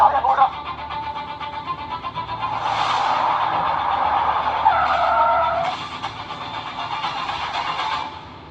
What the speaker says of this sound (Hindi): यकीन मानिए मैंने तुरंत ब्रेक मार दिया था